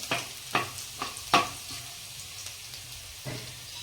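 Dried garlic cloves sautéing in a pan with curd and spices for vegetable pulao, heard as a few sharp scraping stirs over a soft, quiet sizzle that thins out toward the end.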